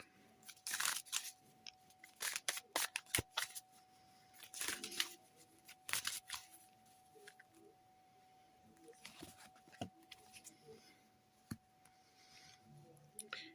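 Tarot cards from a deck being shuffled and handled while one is chosen, soft papery flicks and clicks in irregular bursts, close and quiet, with faint talk in places.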